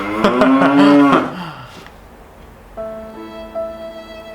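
A person's voice imitates a cow, giving one loud, drawn-out moo lasting about a second and a half, followed by a fainter sustained tone afterward.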